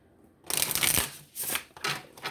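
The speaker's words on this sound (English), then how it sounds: "Quick shuffle." A quick riffle shuffle of playing cards, a few crisp fluttering bursts close up.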